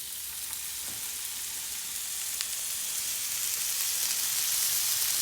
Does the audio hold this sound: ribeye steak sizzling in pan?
yes